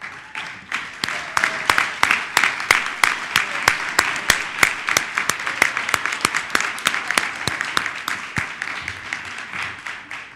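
Audience applause honoring teachers at a county council presentation: a sustained round of many hands clapping, dense and fairly close, holding steady for about ten seconds with individual sharp claps standing out.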